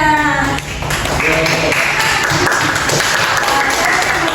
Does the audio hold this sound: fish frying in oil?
no